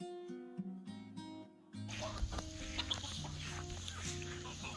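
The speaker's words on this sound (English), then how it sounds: "Lots of chicken, like I told you, we rear chicken." Farm chickens cluck in a close, busy chorus, sparse staccato calls at first and then a denser overlapping flock of clucks and squawks over a rural background.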